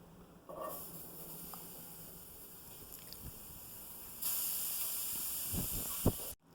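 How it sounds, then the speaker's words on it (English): Steady hiss and sizzle of beetroot and carrot pieces roasting on a cast iron pan over high flame, rising louder partway through, with a few soft clunks near the end. "Roast it on high flame on a cast iron, or you can bake it."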